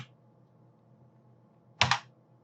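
A computer keyboard tapped to rename a layer in After Effects: a short, sharp double burst of keystrokes near the end after near silence, close and fairly loud.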